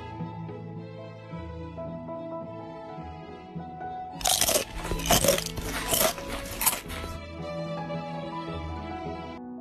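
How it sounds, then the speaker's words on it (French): Someone bites into a soft sugar-coated brioche, giving a close, crisp burst of crunching and crackling lasting a few seconds, set against quiet background music that continues before and after. "je te laisse écouter ce bruit moelleux quand je croque dedans"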